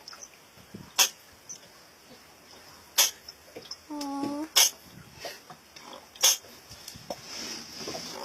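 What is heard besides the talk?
sea turtle sneezing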